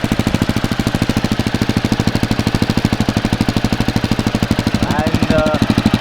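A Honda CBR 250R motorcycle fitted with a custom exhaust idles close by in a steady, rapid, loud pulsing thump that holds throughout, with a short higher squeak near the end.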